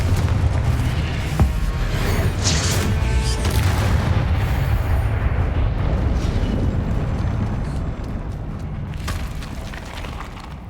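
A Confringo spell explodes in the Hogwarts Legacy video game as a heavy, rumbling blast that rolls on for several seconds and slowly fades, with sharper crackles near the start.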